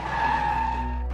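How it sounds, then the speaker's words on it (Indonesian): Bus tire blowing out as the bus sways and skids, heard as a brief, sustained tonal tire squeal with a low rumble underneath, fading at the end, with no voices. "Tiba-tiba ban meletus, bus oleng dan mereka terpaksa berhenti."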